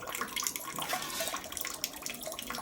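Water is poured during a home foot-washing ritual for Bheemana Amavasya, making a continuous splashing, trickling rush at moderate distance with no talk over it.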